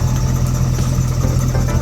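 A Chevrolet C5 Corvette engine runs steadily after a starter motor replacement, a loud close idle with a constant low rumble and no voices.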